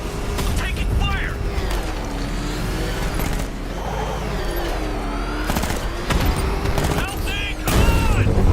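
Gunfire in the Batman: Arkham Knight video game, a loud, dense rumbling barrage with explosions and vehicle noise, overlaid by shouting voices throughout.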